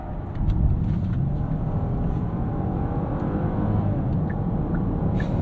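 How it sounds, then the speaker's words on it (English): Inside a 2025 Genesis GV80, the engine hum swells steadily as the 8-speed automatic kicks down under acceleration, a continuous near drone with road noise and no talking. "it takes that 8 speed a second to kick down"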